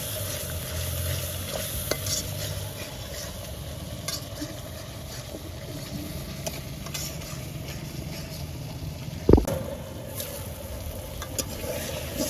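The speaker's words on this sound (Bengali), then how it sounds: "সবগুলো মশলা আমি এখন ভালোভাবে কষিয়ে নিব।" Ground spices including coriander and turmeric stir-fried in a pan, a continuous low sizzle with scraping stirring strokes and one louder clank near the end.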